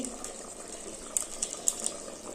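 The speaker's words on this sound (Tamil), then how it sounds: "ஜாரில் கொஞ்சம் தண்ணி ஊற்றி" Water pours steadily into a blender jar over masala, a soft continuous splashing with a few small bright plinks along the way.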